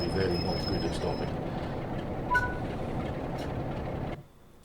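A Class 47 diesel locomotive in Train Sim World 6 rumbles steadily at close range with a broad, continuous roar and faint rail squeal, then cuts to near silence in the final half second.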